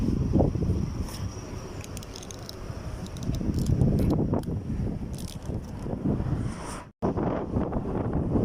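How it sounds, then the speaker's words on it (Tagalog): Loud, gusting wind during a sandstorm in Kuwait batters the microphone in rough continuous bursts, cutting out for an instant before roaring on. "Lakas pa ng hangin."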